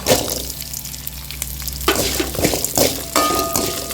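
Onion, garlic and dried red chillies fry in a pan for a curry leaf chutney, a bright continuous sizzle that swells after a clatter midway, with occasional utensil scrapes and clinks nearby.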